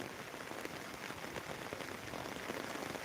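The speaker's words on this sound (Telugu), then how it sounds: "మనకు వర్షం దాదాపు మనం లైవ్ స్టార్ట్ చేసినప్పటి నుంచి ఇప్పటికైతే తీవ్రంగా పెరిగిందని చెప్పచ్చు" Steady rain hisses down without a break, a dense, even patter heard from a distance.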